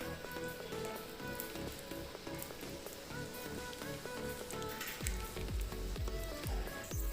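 Cashews and raisins fry in hot ghee in a pan for ravva laddu, a steady crackling sizzle with light stirring scrapes and a few soft knocks toward the end, no voices.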